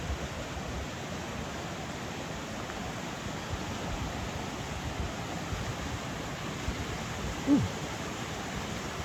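A river swollen by flooding after Hurricane Beryl in Jamaica rushes with a steady, broad roar close by; a voice briefly exclaims once over it.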